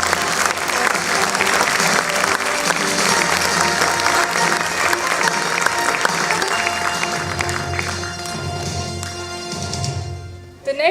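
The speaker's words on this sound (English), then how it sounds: "Ladies and gentlemen, let's give a huge round of applause." A crowd at a 25th anniversary celebration gives long, sustained applause. The clapping holds steady and full for about nine seconds with music or voices beneath it, then fades out at the end.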